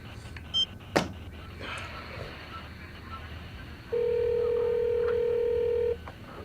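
A steady electronic telephone tone sounds for about two seconds, preceded by a couple of short clicks in a quiet room.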